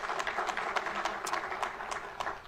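Audience applause at a Uganda–United Arab Emirates business summit, moderately distant clapping from a seated crowd with distinct sharp claps standing out, steady throughout.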